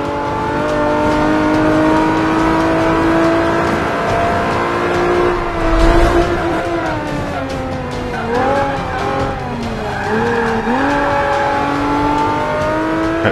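An Abarth 500 with a rear-wheel-drive swap to a V6 from a Nissan 370Z races on a track day in Forza 5. The engine drones loudly and rises in pitch as it revs up, with a tire squeal in the middle.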